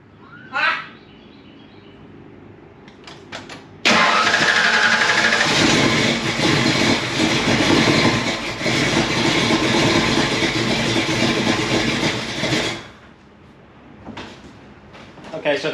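A 347 stroker V8 fires up and runs roughly at a very low idle, loud and close with a sustained mechanical roar, with brief clanks and voices before and after.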